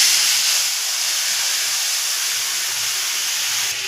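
Dry red chili and black cumin sizzling in hot oil, a steady loud hiss and crackle held close throughout.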